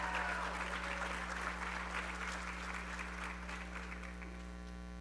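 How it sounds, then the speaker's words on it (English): Sustained applause from an audience at a high school senior awards ceremony, a steady dense patter of clapping that holds for several seconds and eases slightly, over a low electrical hum. "one more giant round of applause for everybody who was involved"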